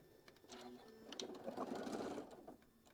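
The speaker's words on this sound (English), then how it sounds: "So I'm lining up my fabric, and we're just going to go ahead and sew that down" A sewing machine stitches fabric at a quarter-inch seam for a quilt block, a brief close whirring run of rapid needle strokes lasting about two seconds.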